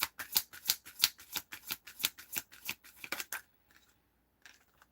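Tarot cards being shuffled by hand, a rapid run of crisp riffling flicks for about three seconds, then near silence with a few faint soft taps.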